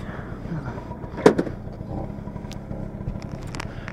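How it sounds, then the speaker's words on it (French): A Vespa 150cc scooter is kick-started, with a sharp thump of the kick lever followed by a low, steady idle hum from the small engine, close by. "Démarrage au kick"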